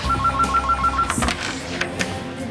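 A telephone rings with rapid electronic trills in the first second, close and clear, followed by handling clatter as it is picked up.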